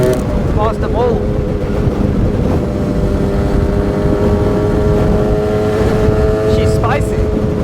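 An Aprilia RS two-stroke motorcycle engine drones loudly and close, with a few sharp rising rev sweeps, amid wind buffeting and voices.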